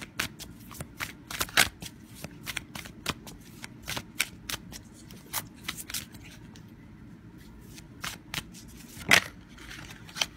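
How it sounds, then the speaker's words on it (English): Tarot cards being shuffled repeatedly, a dense run of crisp riffling flicks close by, with no talking. "Let's give a shuffle."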